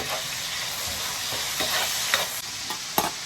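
Green pepper strips stir-frying in plenty of hot oil with scallion, ginger and garlic, giving a steady loud sizzle broken by several sharp scrapes and clacks of the spatula.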